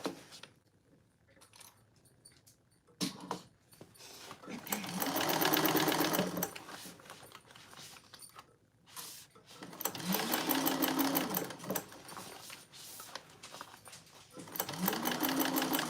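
A sewing machine stitching a handbag, back-stitching at the start and end, runs in three sustained bursts of rapid needle chatter, separated by quieter pauses with small handling clicks and rustles.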